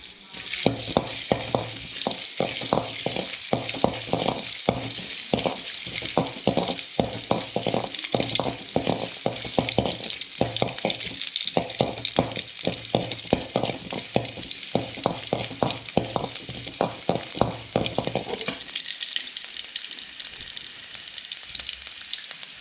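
Garlic fries in a couple of spoons of oil for a Chinese-style veg ball manchurian, giving a continuous close sizzle. Rhythmic scraping strokes of stirring run through most of it, then the stirring stops and only the sizzle remains.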